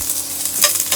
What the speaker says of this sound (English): These are just going to be flash fried for maximum like 45 seconds.